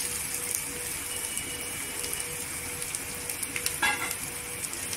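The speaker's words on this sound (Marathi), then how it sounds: "इथे बघा बॉईल केलेलं चणा आहे ते टाकायचं।" Boiled black chana tipped into sizzling masala in a kadhai: a continuous close frying crackle, then a brief louder burst of sizzle as the chickpeas land, with no talking.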